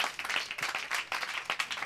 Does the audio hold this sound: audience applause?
yes